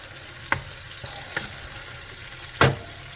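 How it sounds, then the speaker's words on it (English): Ground beef fries in a pan with a constant close sizzle, broken by a few scraping stir sounds and a louder clack near the end. "The ground beef is cooking up."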